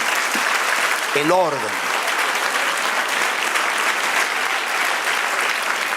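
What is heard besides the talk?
church congregation applause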